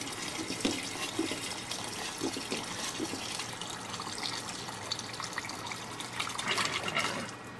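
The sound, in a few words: pouring water into a pot of mushrooms and carrots for curry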